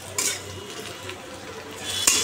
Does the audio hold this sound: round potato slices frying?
yes